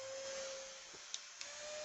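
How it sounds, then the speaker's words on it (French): A small, cheap multi-speed electric fan runs at speed with a faint, steady motor whir and a thin hum. Two brief clicks break in near the end. "Ils sont trop bien ces ventilateurs."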